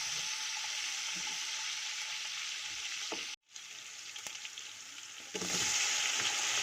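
Chopped green chilies frying in a pan while a chana pulao is being made, a steady close hiss of sizzling oil that drops out briefly, then returns and grows slightly louder near the end.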